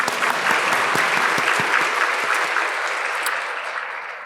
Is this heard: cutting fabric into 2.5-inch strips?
no